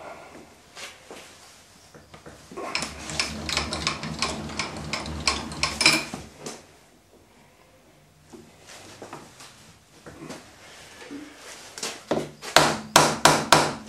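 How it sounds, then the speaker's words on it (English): Rubber hammer tapping a steel part down into an ER32 collet holder on a machine, a few scattered light knocks with a closing burst of sharp, rapid taps, close and unaccompanied by speech. "Gentle bed down with the rubber hammer"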